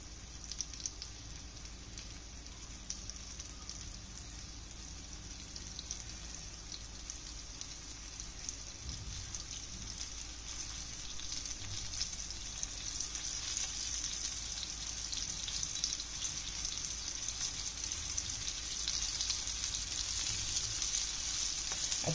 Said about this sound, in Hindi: और अब इसे हम कोट किया हुआ प्रॉन्स इसमें फ्राई करेंगे।